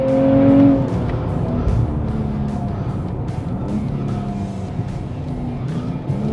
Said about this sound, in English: Just listen to this engine though.